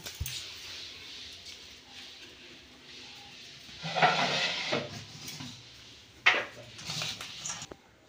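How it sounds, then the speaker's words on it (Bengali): Chopped cabbage being mixed by hand with salt and turmeric in a kitchen bowl, soft squishing and rustling in a couple of louder bursts, with light clinks of the bowl and quiet pauses between. "এবার আমি নুন হলুদ দিয়ে মাখিয়ে নেব।"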